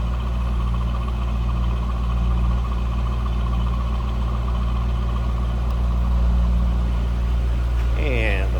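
A Chevrolet Camaro's 5.7-liter LS1 V8 engine idles steadily nearby, a deep, even rumble with no revving.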